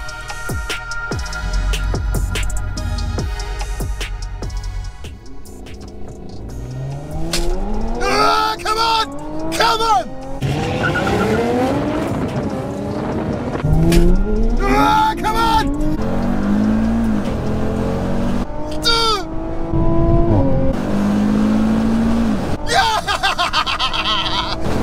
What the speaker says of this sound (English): Next up, it's the drag race, and going off the previous recordings, it's anybody's race.